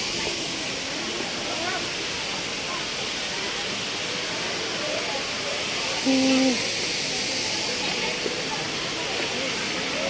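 Broad, steady rush of a waterfall near Antipolo, Rizal, fed by canal water, loud and close, with a brief tonal blip partway through.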